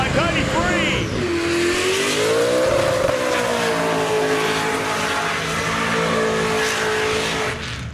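Codie Free's burnout car at Summernats, engine held at a loud sustained high rev with a wavering pitch, tyre roar and crowd noise underneath, running almost the whole time before dropping off at the end.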